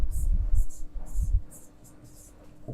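A pen scratches out notes in short strokes and pauses, soft and close, with faint breathy sounds in between.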